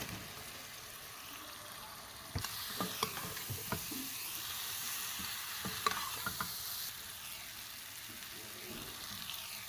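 Jackfruit curry sizzles in a pan of spice masala while a spoon stirs it, with soft scrapes and clinks repeating against a steady, fairly quiet frying hiss.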